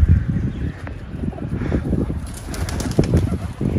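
A pigeon takes off and flies close by, with rough, fluttering wingbeats in quick bursts, light cooing, and a few sharper flaps near the end.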